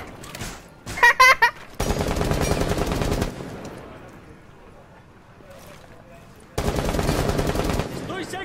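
Video game weapon fire rattles in bursts, a sharp volley early on followed by longer sustained runs of automatic shots, loud and close, with excited voices talking over the action.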